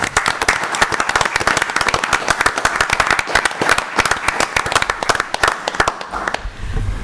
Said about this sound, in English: I'd like to give a round of applause for the people that have given their years of service